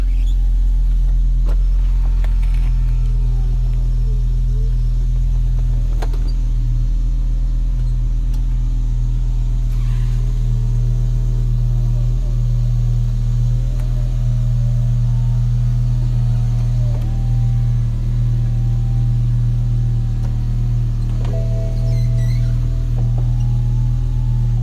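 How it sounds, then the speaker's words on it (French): BMW E64 M6 convertible with its soft-top roof opening, a steady low engine idle running throughout with faint mechanical whirs and clicks from the roof mechanism layered on top, no voices. "On va décapoter."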